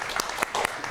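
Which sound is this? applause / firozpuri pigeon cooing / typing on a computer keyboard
applause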